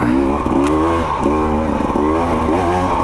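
A 2024 KTM 300 XC-W two-stroke dirt bike on a trail revs loud and close, its engine note rising and falling in repeated throttle blips over about three seconds.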